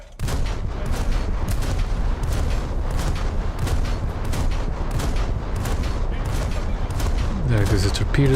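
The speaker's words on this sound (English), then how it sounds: "There goes a torpedo detonation." Explosions and gunfire in a naval combat video game, with a torpedo detonating among dense, continuous loud battle noise and rapid bursts of firing throughout.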